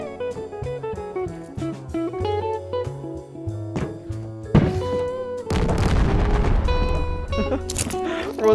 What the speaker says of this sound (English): Bro, I'm exploding this entire lobby.